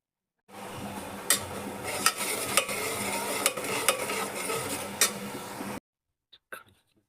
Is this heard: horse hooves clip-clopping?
no